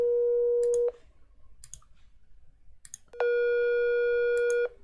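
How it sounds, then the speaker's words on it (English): A synthesized sine wave tone sounds in two steady, loud sustained bursts, the first about a second long and the second starting after a short quiet gap, with faint clicks in between and no talking. "Okay, let's go back to sine wave just to compare."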